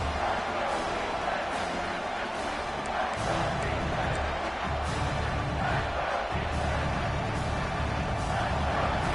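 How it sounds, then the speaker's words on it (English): A college football stadium crowd roaring to pump up the defense in the red zone, a dense, sustained wash of cheering and noise at steady loudness, with a broadcast commentator's voice woven underneath. "the crowd coming to life here trying to help this defense down in the red zone"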